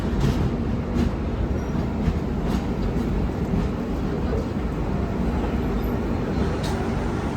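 A Kumbh Express train (Howrah–Dehradun) stands at Dehradun railway station, giving a steady loud rumble with a few metallic clanks and knocks and no clear talking nearby.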